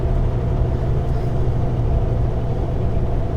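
A Kenworth truck pulling out of an Elko lumbermill yard, heard as a steady, loud low engine rumble with constant road and cab noise throughout, no voices.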